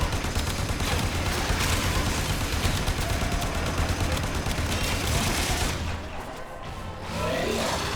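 Dense, continuous gunfire from the video game Warframe rattles in rapid bursts with roaring effects, loud and steady throughout, then eases off briefly before resuming.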